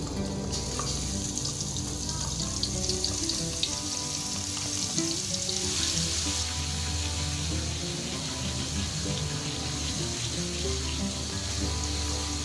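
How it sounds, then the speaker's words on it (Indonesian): Ground spice paste sautés in hot oil in a wok on a stove, giving a loud, steady, continuous sizzle that holds unbroken throughout, with no voices. "Kemudian kita tumis bumbunya yang sudah kita haluskan."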